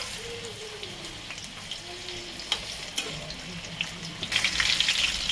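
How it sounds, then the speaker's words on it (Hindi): Potato, green chilli, capsicum and urad dal pakoras frying in oil, a steady low sizzle with scattered crackles and pops that grows louder and busier near the end, with no talk. "दो या तीन रख करके इसमें फ्राई कर लीजिए, चूल्हा को कम ज़्यादा करके कर लीजिए।"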